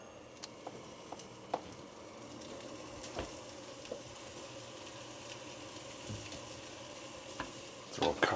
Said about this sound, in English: I'm going to saute it anyway in a pan.